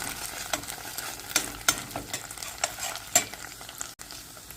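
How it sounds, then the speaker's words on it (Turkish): Tomato paste frying in hot oil for a Yozgat düğürcük soup, giving a steady close sizzle broken by irregular scraping stir strokes against the pan. "bir miktar salçamızı yağla birlikte kavurduk"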